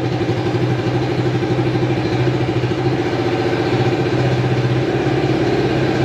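Motorcycle engine running on an Aracer ECU fuel base setting, a loud, close, steady idle with an even pulsing throb for the whole stretch.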